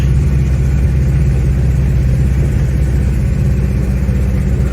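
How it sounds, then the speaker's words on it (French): Restored Renault 4L with a small 25-horsepower engine labouring at launch, a loud, low, rough drone that holds steady and sounds close to stalling, continuous and heard from inside the car. "Là, on est en launch. Elle est à 2 doigts de caler, mais..."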